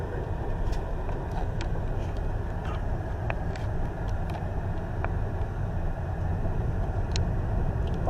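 A car driving along roads at night during an amateur ghost hunt, giving a steady, continuous road and engine rumble with a few faint ticks on top and no talking.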